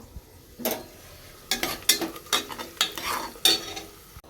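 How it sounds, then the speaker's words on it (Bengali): Onion frying in a pan, with a soft sizzle underneath and a series of scraping stirs from a utensil against the pan, roughly six or seven strokes at an uneven pace, close and fairly quiet. "পেঁয়াজটা ভাজা হচ্ছে"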